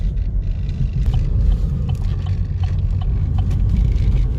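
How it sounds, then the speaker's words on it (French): A Chevrolet Camaro's turbo four-cylinder engine rumbles low and steady as it accelerates, with a faint whistling turbo note riding above the deep drone. "À peine accéléré, on entend son turbo déjà"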